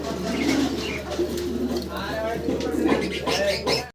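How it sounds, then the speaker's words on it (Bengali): A pair of racing pigeons coos softly in low, murmuring bursts, with steady talk running over the sound throughout. "প্রিয় স্ক্রিনে দর্শক আমরা দেখতেছি বাইরের কাছে খুব চমৎকার এক জোড়া রেসার কবুতর আছে এখানে"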